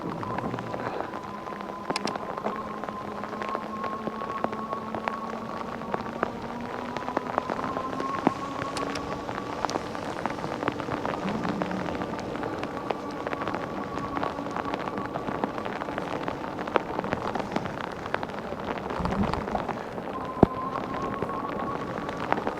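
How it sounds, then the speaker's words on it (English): Heavy rain pours steadily over an e-bike ride, a dense continuous hiss of drops and wind noise with faint tonal hum, sustained and even throughout with no talking. "rain's coming down pretty good now"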